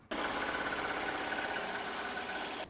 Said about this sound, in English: So I am going to let this run the tack down stitch now.